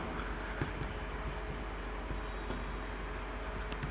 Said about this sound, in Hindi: मैं कुछ एग्जाम्पल्स लिख रहा हूं